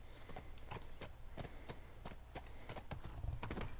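Horse hooves from The Last of Us Remastered clop in a steady, brisk rhythm, crisp and moderately close, over a low ambient bed with no voices.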